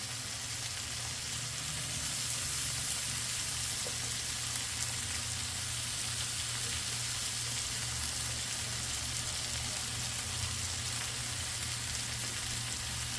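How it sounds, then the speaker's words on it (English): Big, fat shrimp sizzle steadily on a hot griddle, a continuous close frying hiss that holds even and unbroken without any talk over it. "And from here, we're just going to lay our shrimp."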